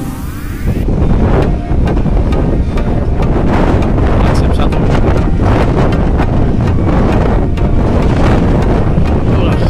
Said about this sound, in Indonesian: Masih cuman anginnya banget ya yang kencang.